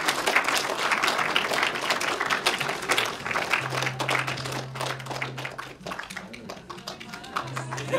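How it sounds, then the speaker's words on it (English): Audience applause for actors at a science seminar curtain call, loud dense clapping from a crowd filling the room, with a faint tonal hum partway through and a voice briefly audible beneath. "please applaud for those as they come up"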